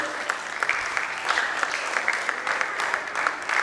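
Audience applauding at a Kumon award ceremony, a steady wash of many hands clapping throughout at moderate, even volume, with no voices.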